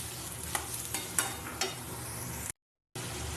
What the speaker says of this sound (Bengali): বেশ কিছুক্ষণ একটু নেড়ে ফেলে নেবো মটর আর পেঁয়াজগুলো ভাজা ভাজা প্রায় হয়ে এসেছিলো